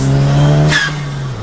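A Zenos E10 R sports car with a Ford turbo engine revs hard, a loud close engine drone that climbs, then drops away with a brief high squeal or whoosh.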